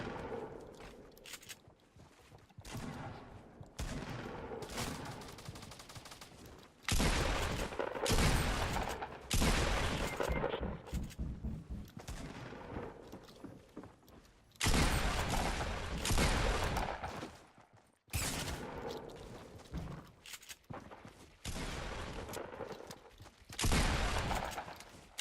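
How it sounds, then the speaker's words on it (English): Rapid bursts of gunfire from the battle royale video game Fortnite, loud and close, with dense volleys in several stretches separated by brief lulls and scattered single shots, no talk over them. "Alright, he's shooting me."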